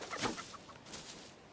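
A chicken clucking in the video game Lens Island, a few quick soft clucks near the start followed by a fainter cluck, quiet and brief with no talking.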